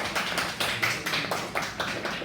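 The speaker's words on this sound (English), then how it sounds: "Yes, you can clap." Students in a classroom clap briefly together, a dense run of handclaps with a loose, uneven rhythm lasting a couple of seconds, close and fairly loud.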